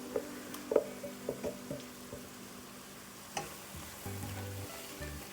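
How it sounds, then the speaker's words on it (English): A mixture of ground green chilies, dry coconut and coriander is sautéed in a pan, giving a faint, soft sizzle with a few light stirring clicks and scrapes, quiet and close, without voices. "I'm going to saute this mixture for about 5 to 7 minutes until it gets nicely bhunoffied."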